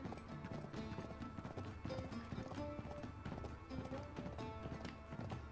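Horse hooves clip-clopping in Uncharted 3: Drake's Deception, a steady rhythmic trot of hoof beats over a continuous game soundscape, fairly quiet, with faint voices in the background.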